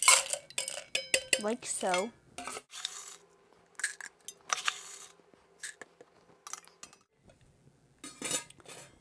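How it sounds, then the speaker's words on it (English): Ice cubes clinking and rattling into a metal cobbler shaker, a quick series of bright clatters and rings at the start, then lighter scattered clinks, with a brief spoken remark. "And you put ice inside the cobbler shaker."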